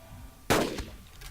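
A single loud rifle shot fired at a dinosaur in Carnivores: Dinosaur Hunter Reborn cracks sharply out of a quiet outdoor ambience, then trails off in a brief echo with a fainter thump after it.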